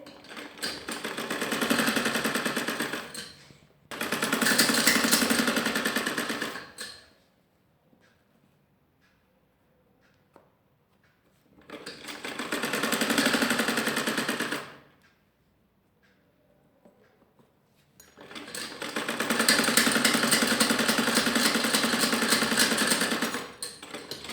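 Electric sewing machine stitching a folded salwar hem edge, running in four loud sustained bursts of a few seconds each, separated by quiet pauses with faint handling of the cloth.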